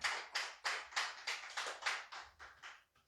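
A church congregation claps in unison during a sermon, about eleven sharp, evenly spaced claps in a steady rhythm, moderately loud and close, with no talk over them.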